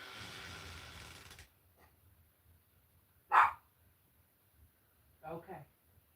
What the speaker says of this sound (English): What are you barking at, Wendy?